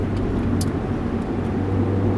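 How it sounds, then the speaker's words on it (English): A 2019 Mazda Miata Club with Brembo brakes, BBS wheels and Recaro seats on an SCCA autocross course, its engine giving a steady, loud drone and low rumble with no pauses. "from the way the engine pulls, the sounds that it makes"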